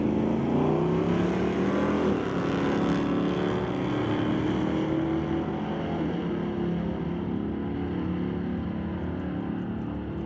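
A 1990 S10 Blazer with a 6-liter LS and a 1978 Monte Carlo with a 355 Chevy drag race at a street-legal night at Mission Raceway Park, their engines roaring loud and steady throughout with no voices.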